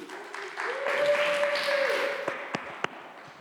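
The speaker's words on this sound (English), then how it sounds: "Let's give him a round of applause, please." A crowd claps in a brief round of applause while a voice holds a long note, then the clapping thins to a few scattered claps.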